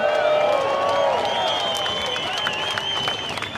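An audience at a live gig at Parliament House in Melbourne breaks into loud, sustained applause with cheers and whoops, a dense wall of clapping that tapers slightly toward the end.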